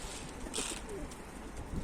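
Soft, low cooing from domestic pigeons nearby, a few gentle murmuring calls over a faint hiss of outdoor background.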